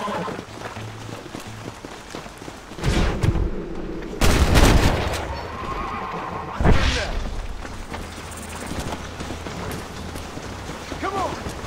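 Bursts of gunfire from the Red Dead Redemption video game, heavy shots near 3, 4.5 and 7 seconds over a steady game soundscape, with an intermittent voice in the background.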